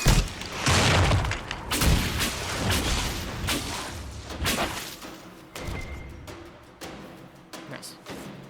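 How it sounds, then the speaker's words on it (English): A rapid series of explosions rips through combat in the video game Dragon Age: Inquisition, with repeated booms, thuds and whooshes in an irregular burst that fades toward the end. "didn't hear that series of explosions"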